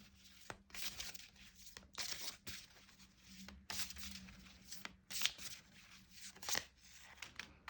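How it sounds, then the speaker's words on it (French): Tarot cards being shuffled and drawn, quiet crisp riffling and papery flicks in irregular bursts, close to the microphone with no talking. "Allez, je vais sortir une dernière carte."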